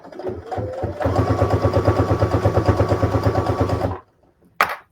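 A sewing machine runs a steady, rapid rhythmic stitch for about three seconds, going around a piece of layered fabric, then stops abruptly, followed by a brief click.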